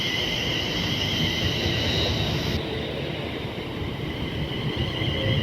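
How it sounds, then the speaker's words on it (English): A pair of Class 350 electric multiple units, Birmingham New Street to London Euston, roll into Wolverton station with a steady rumble and high motor whine that shifts partway through, fairly close and without talk. "arriving in now is another pair of 350s going from Birmingham New Street to London Euston"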